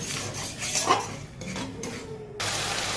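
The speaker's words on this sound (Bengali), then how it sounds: "এইভাবে ভালো করে আর একটু কষিয়ে নেবো" Spice paste cooking down in oil for a prawn and pointed gourd curry, with close metal clinks of a spoon scraping the pan over a low sizzle.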